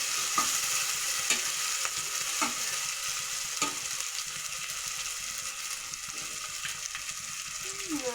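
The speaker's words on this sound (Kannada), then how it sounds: "ನೋಡ್ರಿ ಅದು ಕುದಿತೀಗ ಎಣ್ಣೆಗ." Ground coconut and spinach paste sizzles in hot oil on a gas stove, a steady close frying hiss punctuated by regular stirring knocks of a utensil against the pan.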